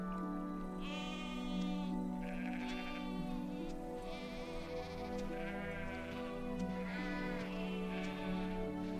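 Several sheep bleat repeatedly in overlapping wavering calls, some close and some farther off, over a steady low background drone with no talking.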